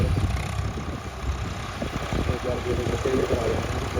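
A tractor engine runs steadily on a farm, a low, continuous droning rumble heard close and fairly loud, with voices talking over it.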